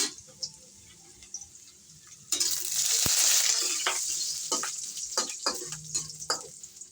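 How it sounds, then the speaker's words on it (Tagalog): Garlic dropped into hot oil in a pan for chicken adobo, a sudden loud sizzle that bursts in after a quiet stretch and then settles into steady frying crackle with sharp spatters and stirring clicks. "Magigisa na tayo. Unahin natin yung bawang."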